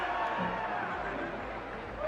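A large crowd of about 20,000 spectators at a strongman contest roars and cheers in a continuous distant wash of noise, with a commentator's voice faintly audible over it.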